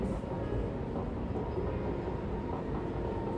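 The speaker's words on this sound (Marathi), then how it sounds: "मी नेहमी येते तेव्हा इथे ट्रेन येते" A steady low rumble of a train passing, continuous and fairly loud with no talking, the heavy roar holding evenly throughout.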